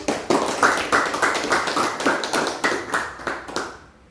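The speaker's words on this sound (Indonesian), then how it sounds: "Berikan aplaus untuk ketiga teman kalian tadi" Classroom applause for three students, a sustained patter of many hands clapping close by for about four seconds, with a steady uneven rhythm that fades out at the end.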